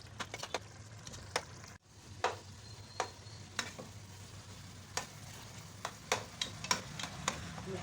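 Mutton and bitter gourd stir-fry in hot oil, with a faint steady sizzle beneath a series of sharp scraping and clacking strokes as a spoon works the pan, spaced irregularly with one brief pause.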